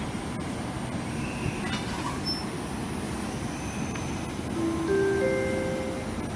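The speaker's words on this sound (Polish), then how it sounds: "Na tor 12 przy peronie 1 wjedzie pociąg służbowy." A service train rolls into a platform at Warszawa Wschodnia station, with a continuous low rumble of wheels, high squeals from the wheels and brakes late on, and a steady mechanical hum.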